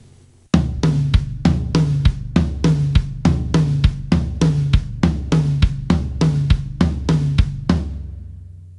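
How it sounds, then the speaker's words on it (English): Drum kit playing a steady 16th-note triplet pattern, with the right hand on the low tom, the left hand on the high tom and the bass drum on the third note. The three even notes repeat as loud, crisp hits close to the listener for about seven seconds. "right hand playing on the low tom, the left hand on the high tom, and the third note of the pattern will be the bass drum"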